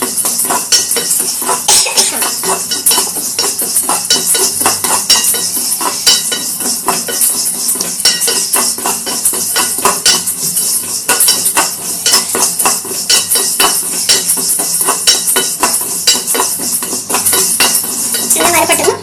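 Coriander seeds, chana dal and tamarind dry roasting in a pan under constant stirring, a close, loud, busy rattle of spoon scraping metal and dry pieces shifting, steady throughout.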